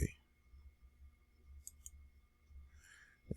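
A computer mouse clicks OK while modelling in CAD software: a sharp near click at the start and another at the end, with a couple of faint ticks between over a quiet room hum.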